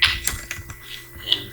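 Quick keystrokes tapped on a computer keyboard while entering gender values into a database table in Microsoft Access, a short burst of clicks close up with no talking.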